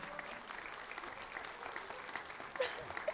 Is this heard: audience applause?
yes